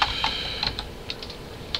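A search is typed on a computer keyboard, a run of light, irregular key taps close by over a quiet background, with no one speaking.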